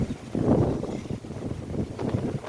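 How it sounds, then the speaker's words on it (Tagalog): Gusty typhoon wind roars against the microphone in low, rumbling surges that swell and ease, with no voices. "Diyos ko, ang hangin, oh."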